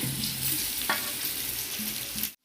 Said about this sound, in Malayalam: തൊണ്ട് കളഞ്ഞ് കട്ട് ചെയ്ത് വെച്ച ചേമ്പുണ്ടല്ലോ, അതിനെ ഞാൻ ഈ എണ്ണയിലോട്ട് ഇടുവാണ്.